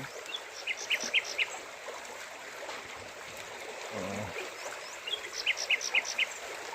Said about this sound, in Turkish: Bu bülbül nerede şakıyor tam olarak?